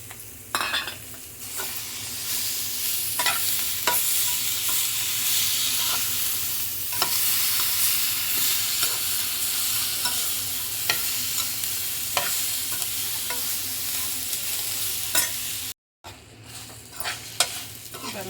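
Onions, mint and tomatoes sauté in a pan for mutton gravy, a steady close sizzle broken by repeated scraping stir strokes, with a brief dropout near the end.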